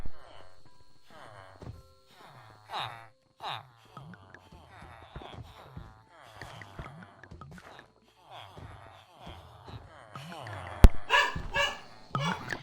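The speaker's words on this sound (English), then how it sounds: "She's barking at the cat." A dog barks in short sharp bursts, mixed in with a person talking nearby, with a louder cluster of barks near the end.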